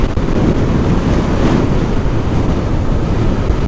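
Strong wind buffets the microphone along the beach road at Uppada, with the roar of ocean surf blended into a loud, continuous rush.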